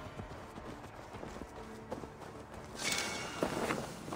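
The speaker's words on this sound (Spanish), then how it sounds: "Caballo." Horse hooves clip-clop at a steady walking rhythm in Assassin's Creed Valhalla, fairly close and moderate in level, with a brighter swell of game sound toward the end and no talk.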